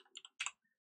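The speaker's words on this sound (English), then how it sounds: "So I will type in" Brief burst of typing on a computer keyboard: a few quick, light clicks followed by a slightly louder cluster of key presses, close and alone with no talk.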